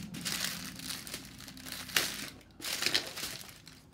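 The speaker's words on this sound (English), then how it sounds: "I hope the plastic isn't hurting your ears." Plastic packaging crinkles and crushes up close, two loud bursts of rustling with a short pause between, no talking.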